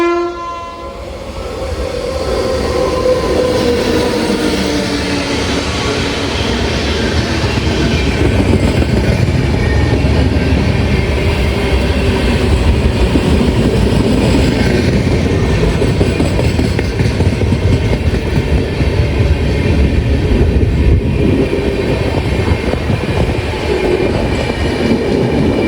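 The Thiruvananthapuram Central–Mangaluru Central Express, hauled by a P7 locomotive, roars loudly through a main-line station near Bekal Fort, sounding its horn at the start and then a long continuous rush of wagons passing at high speed.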